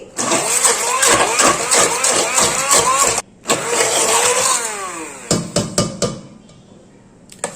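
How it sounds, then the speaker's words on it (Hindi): A hand blender whirs loudly grinding cooked mustard greens in long bursts, its pitch shifting as it works, then stops and restarts in shorter pulses, close by. "मैं यहाँ हैंड ब्लेंडर का यूज करूंगी।"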